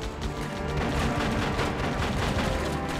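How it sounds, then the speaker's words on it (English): Gunfire in the GameCube shooter Die Hard Vendetta, a dense, continuous barrage of overlapping shots and impacts at steady loudness for the whole stretch, with no voices over it. "Now who's shooting at me?"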